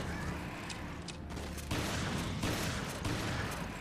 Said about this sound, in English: So then I just unload a lot of ammo on them